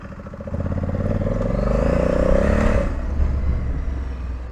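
A 2020 Honda Africa Twin DCT adventure motorcycle pulls away in automatic mode, its engine rising in a smooth, loud climbing drone as it accelerates nearby, then easing off.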